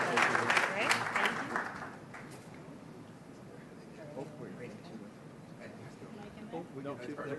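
Audience applause for a 2018 public policy award recipient at a CED event, loud and full at first, then thinning into scattered clapping with talk over it.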